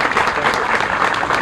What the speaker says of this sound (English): Can we have a little applause?